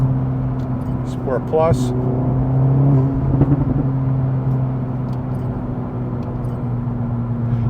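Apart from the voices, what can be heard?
Acura Integra Type S with MBRP exhaust cruising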